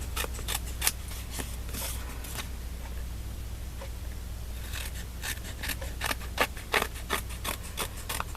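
Paper card edges being frayed with a handheld distressing tool: bursts of short, dry scraping strokes near the start and a rapid run of them in the last few seconds, close and fairly quiet, with a quiet pause between.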